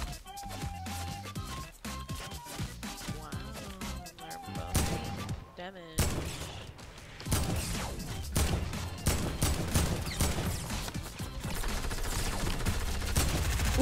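Minigun fire in Fortnite rattles in dense, rapid bursts amid other game effects, growing into a sustained fusillade in the second half, with a player's voice talking over it.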